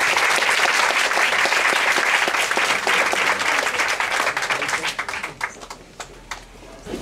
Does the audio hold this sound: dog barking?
no